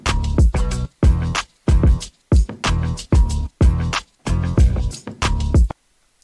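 A looped music sample plays back with added drums, hi-hats, a percussion roll and a tabla fill. It comes as a run of punchy, chopped bursts, each with heavy low hits and harmonic tones, separated by brief silences.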